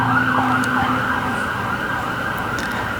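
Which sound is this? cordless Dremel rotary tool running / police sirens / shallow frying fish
police sirens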